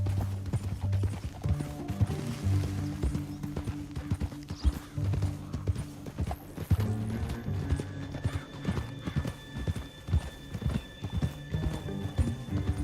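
Horse hooves clip-clop in a steady trotting rhythm through Red Dead Redemption 2, with an occasional whinny and a low game score running underneath.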